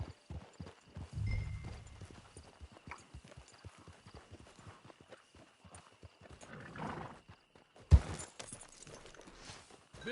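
Horse hooves clip-clop in a steady walking rhythm in Red Dead Redemption 2 gameplay, fairly quiet and close, with a brief sharp thump partway through.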